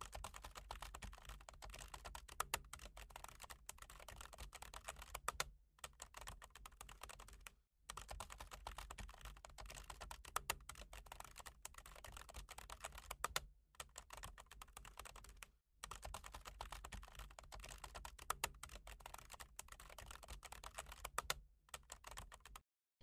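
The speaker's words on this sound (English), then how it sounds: "First, let me type it and then explain" Someone types an AI prompt on a computer keyboard in steady, close bursts of rapid key clicks, broken by several short pauses, with no talk.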